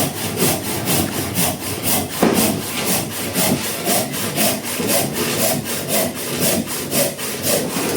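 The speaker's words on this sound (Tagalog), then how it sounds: "Sander. Hindi lagari" A power sander works over wood with a steady rhythmic rasping, close and loud, its strokes pulsing about twice a second without a break for the whole stretch.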